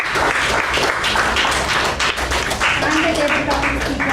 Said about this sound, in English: We'll give one more round of big applause for the prepared speakers and the tabletop speakers.